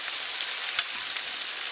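Battered chicken pieces for General Tso's chicken deep-fry in hot oil, giving a dense, steady crackling sizzle throughout with a small pop now and then. The sizzle is close and even, and no one talks over it.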